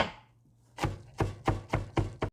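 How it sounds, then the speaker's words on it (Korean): A knife julienning carrot for sweet potato stem kimchi strikes a cutting board in about six sharp, close chops, quickening slightly toward the end after a brief quiet start. "먹기 좋게 당근도 채 쓸게요."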